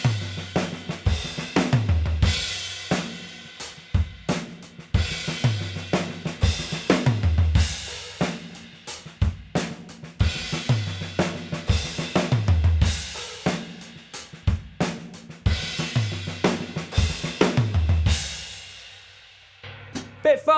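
Acoustic drum kit playing a repeated beginner-style fill of crash cymbal, tom, snare and crash, with loud, regular hits and ringing cymbal washes cycling through the passage, played alone without talk.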